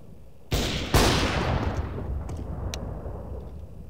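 Two sharp, loud gunshots in CS:GO, about half a second apart, each trailing into a long rumbling decay, with a couple of faint metallic clicks afterward and no talking.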